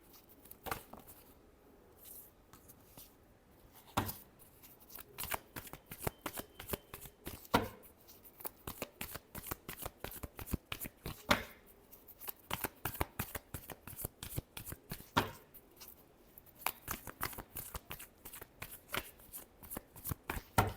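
Tarot cards shuffled by hand in repeated bursts of crisp riffling and flicking, close and fairly quiet, with brief pauses between shuffles.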